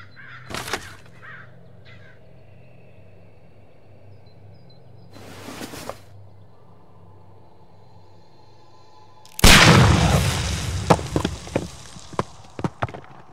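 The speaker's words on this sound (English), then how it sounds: "Do you have your pistol? Good. Fire at this package." In the video game Sherlock Holmes: Crimes and Punishments, a pistol fires at a package of dynamite: after sparse quiet clicks and thuds, a loud sudden blast erupts near the end, followed by a few sharp cracking pops as it decays.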